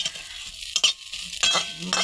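Vegetables frying in a pan, with a few quick stirring and scraping strokes of a utensil over a soft sizzle, in short bursts separated by quieter gaps.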